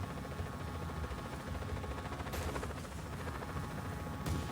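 A helicopter in Just Cause 4 flies at high speed, producing a steady, dense rotor and engine roar throughout with no talk over it.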